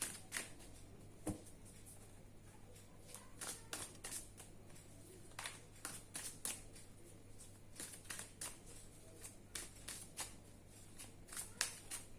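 Tarot cards are shuffled in quick repeated riffles and flicks, soft and close, with a low steady hum underneath and no speech.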